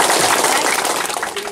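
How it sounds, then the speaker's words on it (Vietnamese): Applause from a crowd of villagers gathered at a rice handout for poor families in Vĩnh Kim commune, a dense, steady patter of many hands clapping close by that eases slightly toward the end. "Chúng ta cho một tràng pháo tay chung nha."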